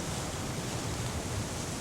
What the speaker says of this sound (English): And this is the sound of waves from a cliff top.